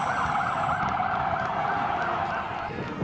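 An ambulance siren wails loudly and continuously through a crowded city street on Independence Day, a steady warbling tone with traffic rumble beneath, no talking.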